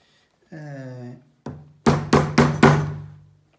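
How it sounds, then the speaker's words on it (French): A metal hammer peening rivets on a sewn fabric tote bag, preceded by a short tone and a single knock, then four sharp close strikes in a quick even rhythm, each ringing briefly. "Il va falloir mater les rivets au marteau"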